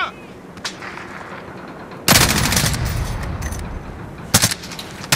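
Rapid automatic gunfire from a Call of Duty Warzone match, with bursts of loud, close shots that run for a few seconds, then pause and return as a second short volley.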